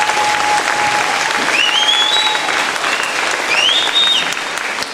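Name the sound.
applause from audience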